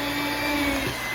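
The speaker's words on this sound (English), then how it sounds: "We're gonna mix this for 1 minute." An electric mixer whirs steadily through lemon blueberry cheesecake batter with fresh lemon juice, a continuous close motor hum with a slight pitch shift near the end.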